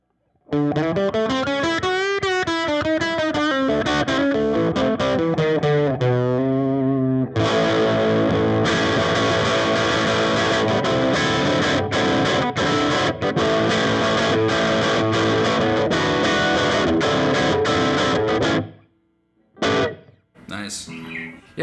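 Electric guitar played through a new Supro Montauk amp turned up loud, heavily distorted with effects, first sustained bending notes, then dense strummed chords for most of the passage before stopping, with a few short bursts at the end.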